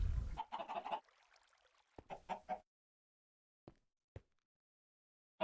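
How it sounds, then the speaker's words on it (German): Chickens clucking in the Minecraft modpack Agrarian Skies: a few brief, separate clucks and squawks, the first ones fuller and the later ones short and clipped, with quiet gaps in between. "Ach, die Hühner sind so schön produktiv."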